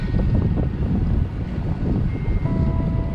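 Steady low buffeting rumble of headwind blasting across a microphone on a bike ride, continuous and fairly loud, with faint tonal whines underneath.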